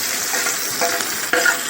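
Onions sizzle steadily in a hot pan for a chicken kuzhambu, with a brief louder hiss and clatter near the end as tomatoes are tipped in.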